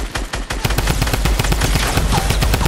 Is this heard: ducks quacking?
no